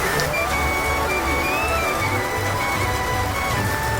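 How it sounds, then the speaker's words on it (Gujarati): Heavy monsoon rain pours down over a village in a dense, steady hiss that fills the whole stretch without a break. "ફૂલ વરસાદ પડી રહ્યો છે, જોઈ શકો છો તમે"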